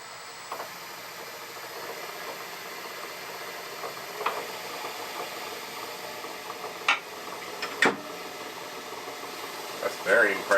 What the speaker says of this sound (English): So engage the motor, engage the clutch.